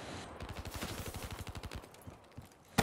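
Rapid automatic gunfire in Call of Duty: Black Ops 3 Gun Game, a steady burst of evenly spaced shots for about two seconds, then scattered single cracks and a final loud shot.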